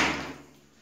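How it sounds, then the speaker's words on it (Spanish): A bathroom door in a small apartment shuts with a single close, loud thud that fades away over a second. "cerramos la puerta para tener una intimidad"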